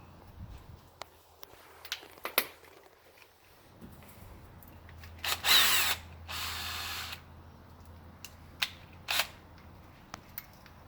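A power drill bores a screw hole up to a strip of blue tape used as a depth stop, in one short whirring burst midway through. Faint clicks and handling noises come before and after.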